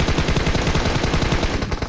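Rapid automatic gunfire rattles without pause through a mobile shooter video game battle, loud, dense and close, with no voices.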